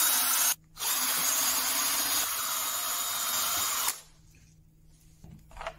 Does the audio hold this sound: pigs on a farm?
no